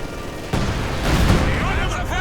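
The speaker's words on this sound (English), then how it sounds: "Incendiary barrage going down." An incendiary artillery barrage lands in a strategy video game, dense rumbling booms and crackling blasts piling up loudly with a voice talking over them.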